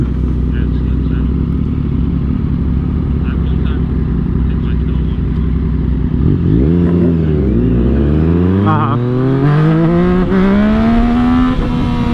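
A 2022 Yamaha MT-09 motorcycle with a tuned ECU roars under constant wind rush, holding a steady drone before its engine pitch dips and climbs sharply through repeated revving during wheelies, loud and close.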